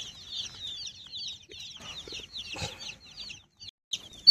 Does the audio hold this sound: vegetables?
no